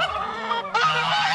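Geese honking close by in two bursts of loud, nasal calls, separated by a brief pause.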